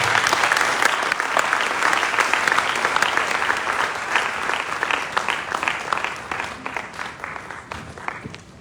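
A large audience applauds at a business conference on micro, small and medium enterprises in Liberia, a dense sustained clapping that fills the whole stretch and tapers slightly toward the end.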